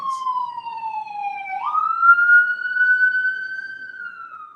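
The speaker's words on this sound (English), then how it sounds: "It's an ambulance." A loud ambulance siren wails with a steady tone that dips, then jumps up and holds high, sounding close and continuous with no talking.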